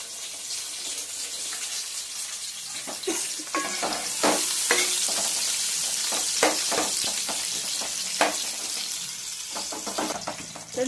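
Sliced onions frying in a pan with a spoon stirring them, a continuous soft sizzle broken by scraping and clattering strokes against the pan at close range.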